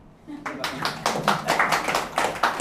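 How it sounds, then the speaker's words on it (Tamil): Audience members clap their hands in a quick, fairly rhythmic burst of separate claps, close and moderately loud, with voices mixed in. "இதுக்கு ஏதாவது ஒரு கைதட்டு தட்டுவீங்களா"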